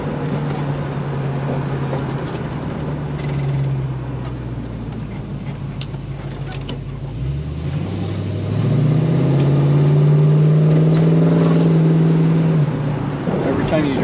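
Ford Mustang engine droning steadily, then rising in pitch as it revs harder during a rolling burnout attempt, loud and close throughout.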